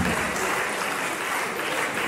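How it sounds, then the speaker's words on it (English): Steady clapping from a university lecture audience, dense and sustained throughout, with faint voices mixed in. "Please, a round of applause for the guest lecturer"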